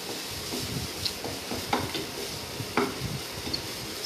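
Red peppers sauté for khichdi in a pan, a soft steady sizzle under occasional scraping stirs and light utensil knocks, close and moderate in level.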